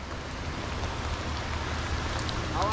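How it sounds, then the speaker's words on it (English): Rain falls steadily on a lake during a bass fishing tournament on Lake Chickamauga, making a continuous broad hiss with no pauses and a few faint clicks near the end. "All I hear is rain."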